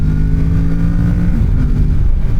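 A Kawasaki Ninja 650 motorcycle engine pulls hard under acceleration, a loud close steady drone with rising harmonics and no talking.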